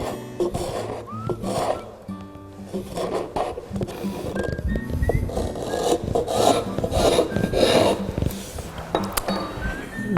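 A hand scraper rasps across a curved wooden sculptured pedestal, undercutting the edge in steady, close strokes with short pauses between passes.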